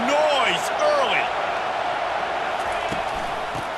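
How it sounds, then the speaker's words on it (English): Dense stadium crowd roar from the College Football 25 video game at an Iowa versus Ball State matchup, a steady broad wash of noise with sharp sliding whistle-like tones and scattered thumps early on. "This crowd bringing the energy and noise early."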